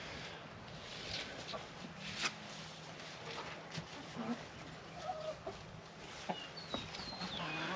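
Hens in a coop cluck continuously while eating freshly scattered feed, with no rooster present; a steady, moderately close chorus of soft clucks and scratching, with occasional louder calls, and no talking.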